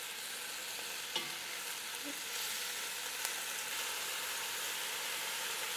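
Thick-cut beef searing in a hot pan for a braise, a continuous even hiss of sizzling fat, close and steady, with a couple of faint clicks and no talking.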